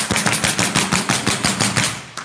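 A Bostitch staple gun fires staples into underlayment in a fast, even volley of about a dozen loud, close snaps, each shot following right after the last.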